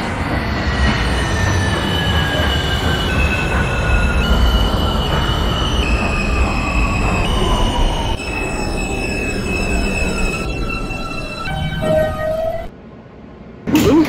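A simulated R160B Alstom subway train on an E train line in OpenBVE runs with a steady loud rumble, a rising motor whine and squealing wheels, ending in a brief quiet pause followed by a burst of noise.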